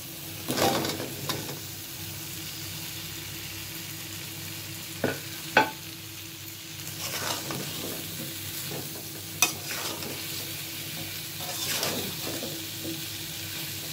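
Mango pieces for pickle frying in spices in a pan, a soft continuous sizzle punctuated by a few sharp spoon scrapes and clicks, fairly quiet and close, no talking.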